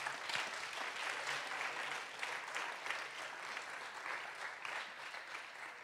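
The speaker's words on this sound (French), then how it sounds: "Vous pouvez vous applaudir." A large audience at an awards ceremony for digital prizes applauds steadily, the dense clapping holding at an even level throughout without a break.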